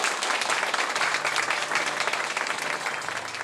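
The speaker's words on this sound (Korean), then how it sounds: "여러분 큰 박수 부탁드리겠습니다." Audience applause at a ceremony appointing an honorary committee chair: a full, continuous burst of many hands clapping, loud and sustained throughout with a faint tonal hum underneath.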